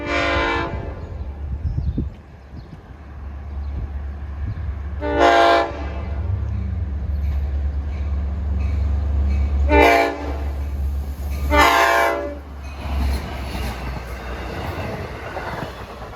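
A train rumbles past close by, its horn blaring in several long blasts, with wheels clattering and squealing beneath.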